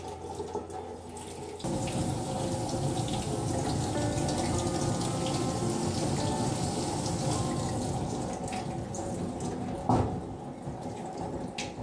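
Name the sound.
tap water running through a hose into a fish's gills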